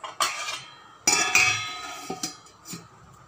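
A plate set down in a home kitchen while preparing barley and brown rice dosa: a few sharp ceramic clinks and clatters, close and distinct, with quieter knocks between them and no talking.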